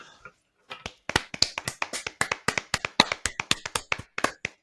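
A round of applause on a talk show, heard as a few close, sharp claps that are spaced and individually distinct, like a small group or a single person clapping rhythmically rather than a large crowd.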